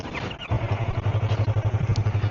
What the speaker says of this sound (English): another thing I'm gonna talk about that I don't like about this bike, the R3, is the sound, the exhaust sound